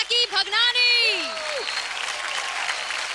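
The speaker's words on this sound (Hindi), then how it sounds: "ड्रामेदार तालियों से स्वागत करें हमारे स्पेशल गेस्ट का रंगरेज से जैकी भगनानी." A television dance-drama talent show audience applauds as a special guest, film actor Jackky Bhagnani, is welcomed. A brief voice and a sliding tonal sound come first, then sustained crowd applause fills the rest.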